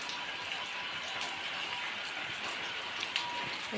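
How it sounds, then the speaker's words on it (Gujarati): Steady rain patters in a dense, even hiss, with occasional nearby drips and taps standing out. "વરસાદ ચાલુ છે"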